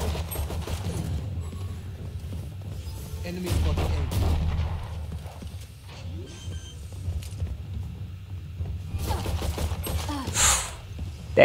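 Gunfire in the Valorant video game, with scattered shots and booming impacts mixed into dense game audio and background noise across the whole stretch, loudest near the end.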